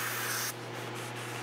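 Short hissing burst of brake cleaner sprayed onto the friction surface of a 2003 Kia Rio flywheel during a clutch job, close and loud, cutting off after half a second into a softer rubbing hiss.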